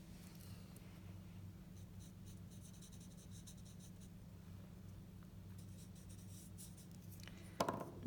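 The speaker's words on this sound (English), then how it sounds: "I'm just going to take my blending stump and I'm just going to take a little bit of that graphite and just add some of that graphite into the edge" A blending stump smudges graphite on paper while shading a cylinder, a faint, close scratchy rubbing that continues softly throughout over a low hum, with a small clatter near the end.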